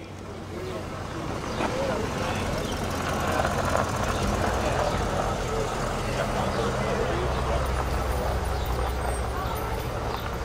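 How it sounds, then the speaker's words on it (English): A Jensen and an MGB classic car pull away at an outdoor car meet in Ash Magna, Shropshire, their engines a rumbling, continuous drone beneath crowd chatter and voices close by. "The Jensen and the MGB are going."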